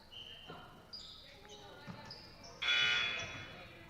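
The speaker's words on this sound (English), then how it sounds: "we got a buzzer going off in the middle of the game" A loud, harsh buzzer blares for about a second in the middle of play at a basketball game, over gym sounds of squeaking shoes, a bouncing ball and faint crowd chatter.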